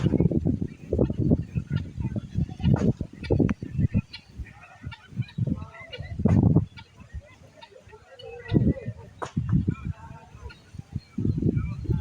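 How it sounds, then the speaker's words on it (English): A guinea fowl lets out repeated loud, harsh, honking calls in irregular bursts close by, with brief pauses between the runs of calls. "This bird here is a guinea fowl."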